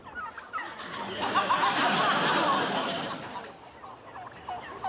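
A flock of turkeys gobbles together in a loud, rising and falling chorus that swells in the middle and then fades.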